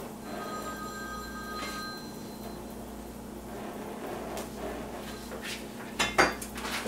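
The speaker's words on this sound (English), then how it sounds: "And there's a phone call, which makes it a normal cooking situation." A telephone rings in a home kitchen during salad preparation, its repeated electronic tones steady in the background under faint clinks of dishes and utensils, with a louder clatter near the end.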